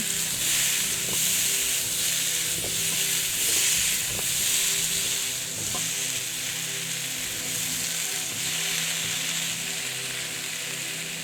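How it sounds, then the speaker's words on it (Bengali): Mixed vegetable curry sizzles steadily in a pan while being stirred, with a continuous hiss and a few light clicks from the spoon scraping the pan, close and moderately loud, with no voices. "আবারও নেড়ে নিচ্ছি।"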